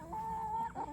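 A single chicken gives a sustained, fairly faint squawking cluck followed by a short second call, heard alone and close by.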